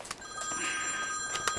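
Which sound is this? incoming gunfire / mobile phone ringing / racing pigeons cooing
mobile phone ringing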